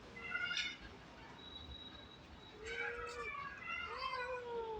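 A domestic cat meows for milk in a sulky way, two or three drawn-out, whiny meows at moderate closeness over a low, steady room hum.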